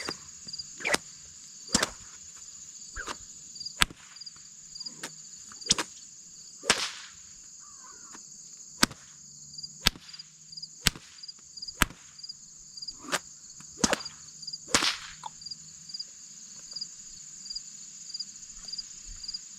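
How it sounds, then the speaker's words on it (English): A whip cracks repeatedly outdoors during a resilience exercise for a horse, sharp isolated snaps spaced irregularly about a second apart, some louder than others, over a steady background of insect chirring. "it's an exercise for me to crack the whip. It doesn't always crack."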